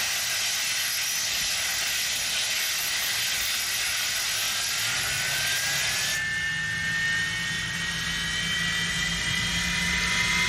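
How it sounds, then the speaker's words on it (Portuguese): A fighter jet engine roars with a loud, continuous hiss that shifts partway through as the afterburner changes, leaving a rising whine beneath a broad, steady rush. "Do jato de caça, em duas situações, com afterburner e sem afterburner."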